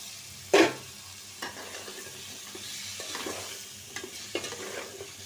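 Cut drumstick stalks and potatoes go into a frying pan where chickpeas have been cooking down, landing with a sharp sizzling burst and then stirred, with scraping knocks that come and go over a low steady background.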